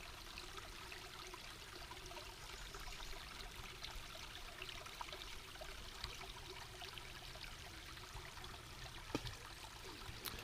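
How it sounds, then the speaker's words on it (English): Small babbling brook running steadily outdoors, a continuous broadband rush of trickling water, fairly faint and even throughout with no voices. "This is the little babbling brook up in there."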